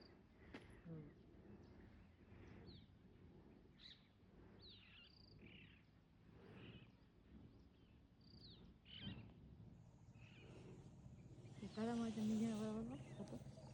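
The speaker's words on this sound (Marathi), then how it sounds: "मोराचा आवाज यायला लागला" A peacock calls in the distance on an outdoor morning walk through greenery. Faint, repeated short cries lead to a louder wavering wail near the end, set among soft chirping birds and insects, while people talk quietly.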